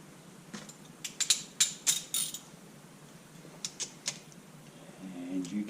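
Sharp metallic clicks and ratcheting from a torque wrench tightening bolts on a Honda CB125E engine during a bottom-end rebuild, two close bursts of clicks separated by a short pause.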